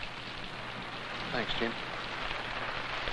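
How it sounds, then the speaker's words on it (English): Light rain begins to patter on surfaces outdoors in Australia, a soft, even hiss of drops that carries on throughout while someone speaks briefly in the middle. "It's starting to rain."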